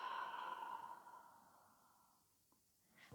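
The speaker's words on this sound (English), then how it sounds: "Exhale, sigh the breath out fully out of the mouth." A slow, deep breath sighed out through the mouth during a relaxing yoga reset, a soft airy exhale that fades gradually over about two seconds and leaves near silence.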